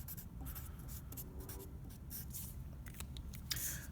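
White colored pencil writing on black paper, close and quiet scratchy strokes repeating in short bursts with light scraping rhythm, no talking.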